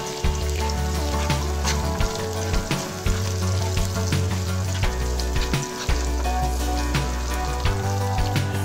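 Onion pieces fry with turmeric and ginger garlic paste in a pan, a steady close sizzle with crackling pops and occasional stirring scrapes over a constant low hum.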